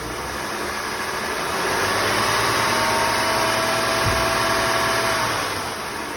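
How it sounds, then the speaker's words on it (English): Engine of a 1999 Acura TL running steadily, rising gradually from idle to a modest rev around the middle and easing back down, a continuous close hum with no talking. "if I give it a little rev here"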